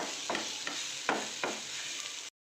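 A spicy green capsicum dish sizzles steadily in a pan as coriander is stirred in with a spoon, making several distinct scraping strokes over the hiss before the sound cuts off abruptly.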